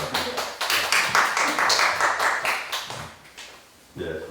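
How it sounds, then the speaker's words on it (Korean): An audience at an agreement-signing ceremony claps in a fairly loud, quick run of individual claps that lasts about four seconds. The clapping then briefly dies down and picks up again. "박수로 모시겠습니다."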